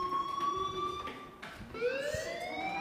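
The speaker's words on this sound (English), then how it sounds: "Hey, do you hear that fire alarm?" An alarm siren in the video game Life is Strange, a steady high electronic tone with harmonics that falls and rises partway through, loud and continuous throughout.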